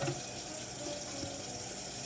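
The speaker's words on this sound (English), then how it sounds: "Wash my hand real fast here." Kitchen tap runs steadily as hands are rinsed before cooking fresh cream-style corn, a close, even wash of water with no voices over it.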